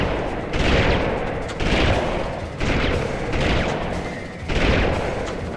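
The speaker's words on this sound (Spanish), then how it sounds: "¡Oh, me está disparando!" Enemy gunfire in the PlayStation game Army Men 3D, loud bursts of rapid shots arriving in about four repeated waves with brief lulls between them, with no voices over it.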